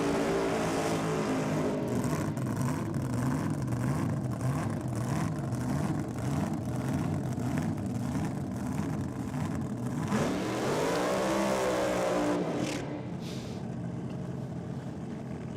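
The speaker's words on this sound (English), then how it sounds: "Short, sharp burnouts from both sides of the racetrack." Drag racing cars do short, sharp burnouts from both sides of the racetrack, a loud continuous engine roar with revving swells and tire screech, heard alone.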